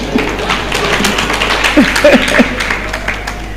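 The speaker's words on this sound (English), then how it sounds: "Clap for her." Brief audience clapping at a public lecture on fighting corruption, a loud steady patter of hands in a reverberant hall, with a few vocal sounds briefly heard over it.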